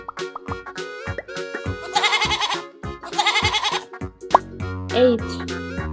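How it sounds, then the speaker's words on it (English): Cartoon goat giving two bright, wavering bleats in a row over cheerful rhythmic children's music, loud and close. "Goat."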